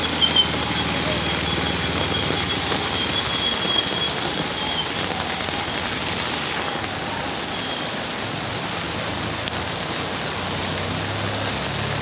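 Steady rain pours down on waterlogged, flooded roads, a dense continuous hiss that holds evenly throughout with no breaks.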